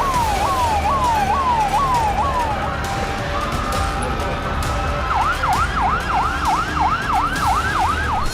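Emergency sirens wail through Beirut's Dahiyeh district after an explosion: a slow, repeating rising-and-falling tone, then a faster yelping cycle, loud and continuous over a steady street rumble.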